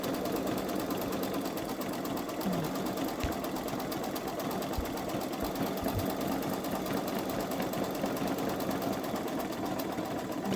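Baby Lock Solaris embroidery machine stitching a design in the hoop, a fast, even mechanical whirr with rapid needle ticking and a few soft knocks, close by and steady throughout, no talking.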